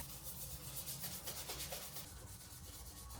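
Hand sanding with 600-grit sandpaper around the grille of an EK Honda Civic bumper outdoors, a steady, close, soft scratchy rubbing that continues without a break.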